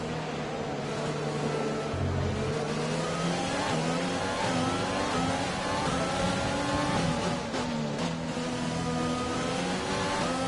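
An F1 car in the F1 2020 game, a Jaguar Racing team car at the Netherlands race, accelerates with overtake boost: a loud, sustained engine whine that climbs in pitch through the gears, steady and close, with no talking.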